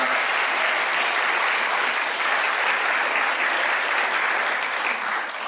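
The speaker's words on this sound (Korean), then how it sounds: "큰 박수 부탁드리겠습니다" Wedding guests at a convention center ceremony break into loud, sustained applause after the couple's marriage is proclaimed, a dense even wash of clapping from start to finish.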